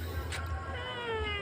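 Pet cat meowing at home, a short, fairly faint meow rising out of a quiet room with low background hum.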